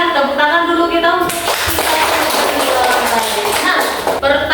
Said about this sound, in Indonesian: Tepuk tangan dulu kita untuk